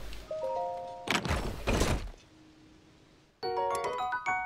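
A treasure chest opens in Zelda: Tears of the Kingdom with a heavy thunk and rush of noise, then a bright chiming jingle rings out clearly, with no talk over it.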